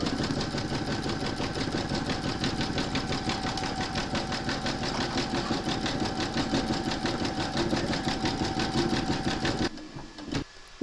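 Close, steady rapid clatter of an embroidery machine stitching a mermaid and dolphin applique in metallic thread, running evenly for nearly ten seconds before cutting out into a brief quiet tail.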